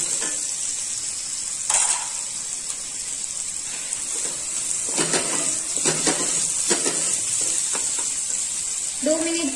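Julienned capsicum fries in a pan with a steady high hiss, while occasional scrapes and clinks of stirring cut through at close range.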